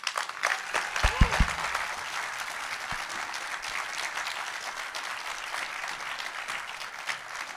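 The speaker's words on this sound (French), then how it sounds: "Je pense qu'on peut l'applaudir une nouvelle fois" A political rally audience in Sarcelles applauds a speaker, a broad sustained ovation of many hands, with a few brief voices and a low thump early on beneath the clapping.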